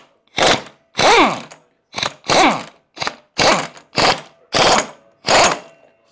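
A ratchet wrench set to reverse tightens oil pump gears on an Otello: eight loud, close bursts of rapid clicking, each separated by a short silence as the handle swings back.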